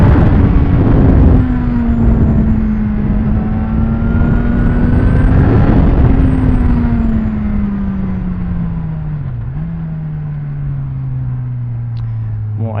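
A Suzuki GSX-S 1000F motorcycle engine pulls hard, rising in pitch through the revs, then shifts and settles into a falling drone, loud and close with wind roar and no speech.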